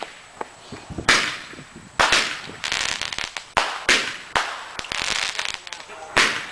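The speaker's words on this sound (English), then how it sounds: "We're doing fireworks." Fourth of July fireworks and firecrackers going off in a residential yard, a series of loud sharp bangs and crackling bursts in irregular succession with hissing tails, close by, with brief voices around them.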